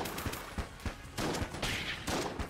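Rapid gunfire bursts from the video game Enter the Gungeon, with repeated close shots and bouncing bullets crackling in dense, overlapping volleys.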